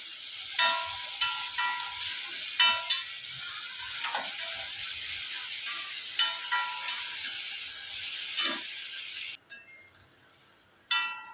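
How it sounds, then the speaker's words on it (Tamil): A green chilli mixture with capsicum, cabbage and salt sautés in a pan, giving a bright sizzle punctuated by repeated spatula scrapes and clinks, which cuts out abruptly near the end before a brief return. "இதை இப்போ நம்ம வதக்கி எடுத்துக்கலாம்"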